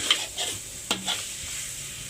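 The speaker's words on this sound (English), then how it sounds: "You've got to keep stirring to prevent burning." Onions, chili and tomatoes stirred in a hot pan, with a soft continuous sizzle under a few quiet scraping stirs and one sharp clink of the utensil against the pan.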